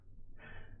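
Heavy breathing from a person winded after climbing three flights of stairs carrying two 15-kilo boxes, a steady close rasp of breaths with no words spoken.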